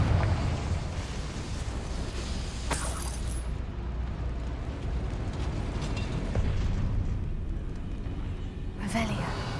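In Hogwarts Legacy, a Confringo fire spell goes off as a sharp crackling burst, followed later by a second blast, over a continuous rumbling game soundscape.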